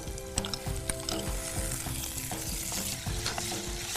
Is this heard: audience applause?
no